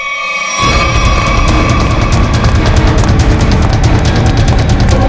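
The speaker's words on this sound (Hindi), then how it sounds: "ये गोलियां क्यों चला रहे हो?" A dense, loud barrage of sharp bangs begins after a brief quiet moment, then continues as sustained rapid gunfire filling the scene with no talking.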